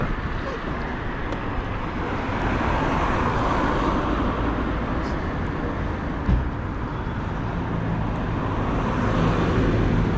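Cars pass on a road while a cyclist waits, heard as a continuous wash of traffic noise mixed with heavy wind rumble from a handlebar-mounted camera, and one brief thump partway through.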